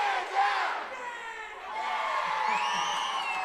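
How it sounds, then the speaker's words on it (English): Crowd cheering and shouting at a Friday Night Fights fighting event, a loud sustained roar of many voices that dips briefly and then surges again. "We got the crowd hype, baby"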